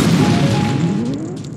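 A loud, dense burst of game sound erupts in Majora's Mask as something is blasted open, a booming explosion that rings out with a sweeping tonal tail and slowly thins.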